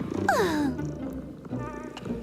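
A cat gives a loud, close meow that slides downward, set over a soft continuous purr that carries on through the rest, in an animated French-language cartoon scene.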